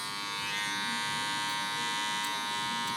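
Electric hair clippers with the zero guard closed buzz steadily and close up while cutting a taper for 360 waves, a continuous loud drone with no talking.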